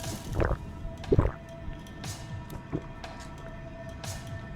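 Water being scooped up in the horror game Fears to Fathom: Home Alone, a few wet squishy splashes and drips, close and moderately loud, over a low murky background hum with no talking.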